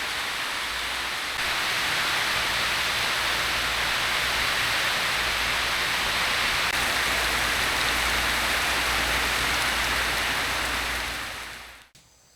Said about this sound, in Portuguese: Agora sim, agora a chuva caiu pra valer.